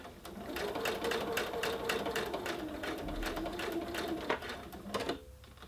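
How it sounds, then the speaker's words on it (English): Close up, a sewing machine hums and taps rapidly in one continuous run while stitching around the curve of a covered shoulder pad, stopping abruptly near the end. "stitch around the curve using a 1/4 inch seam"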